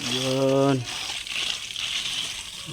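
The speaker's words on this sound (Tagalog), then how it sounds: "Open na din ang valve mga kamaster. Yan, lakas ng tubig mga kamaster." Strong water rushing through newly connected plumbing bypass piping as a valve is opened, a steady loud hiss that follows a brief spoken voice at the start.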